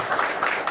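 A church assembly audience gives a brief round of applause to thank a guest lecturer, a short burst of many hands clapping with slight swells.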